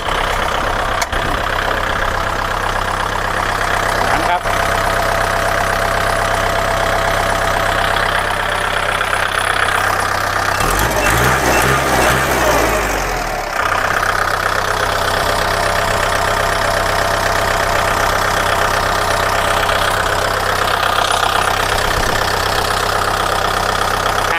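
The diesel engine of a used 2012 Kubota L4708 tractor with a front blade idles steadily and loudly nearby, with a rough low rumble and a brief change in tone partway through.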